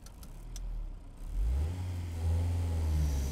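A car pulls away and accelerates on a tyre braking test track, its engine rising from a low rumble into a steady, building drone close by with no talk over it.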